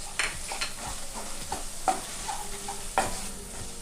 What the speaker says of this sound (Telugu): పసుపు వేసి కలుపుకోవాలి.